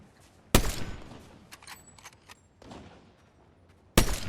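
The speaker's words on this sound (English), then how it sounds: "Like someone else was sniping me." Sniper rifle shots in Fortnite Zero Build battle royale, two sharp loud cracks a few seconds apart with scattered fainter gunfire and game effects between them.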